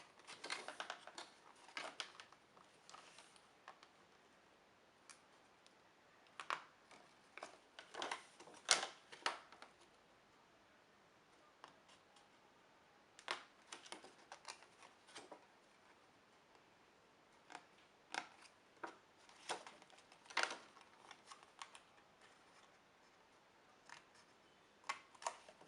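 Scissors snip through a paper box along its folds, giving quiet, scattered clicks and short cutting crunches in irregular bursts with pauses between, close and faint.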